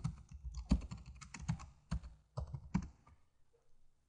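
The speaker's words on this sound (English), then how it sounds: "We'll type in the name for the new category." Typing on a computer keyboard, a quiet, close series of uneven key clicks in short bursts with brief pauses between them, alone without talk.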